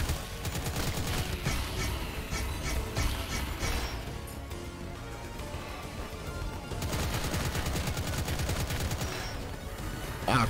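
Rapid gunfire from the Doom-like shooter Impaler, dense repeated shots over loud game music and effects, continuing steadily through the whole stretch with only a brief lull in the middle.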